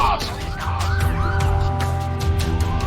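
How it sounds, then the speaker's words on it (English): Police car sirens wail in a video game, several overlapping rising and falling tones over a low engine rumble, steady and moderately loud. "Soba Doom was intercepted by a fleet of local police cars."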